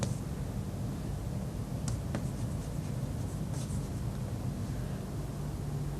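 Chalk or marker writing on a board during a group theory lecture: faint scratchy strokes and taps under a steady background hiss and hum, with no voices.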